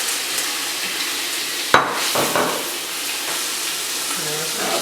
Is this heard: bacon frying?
yes